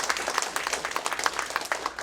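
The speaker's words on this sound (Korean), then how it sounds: "다시 한번 큰 박수 부탁드리겠습니다." Audience applause at an academic conference on the Donghak Peasant Revolution, a steady patter of many hands clapping at moderate volume for about two seconds, with no voices over it.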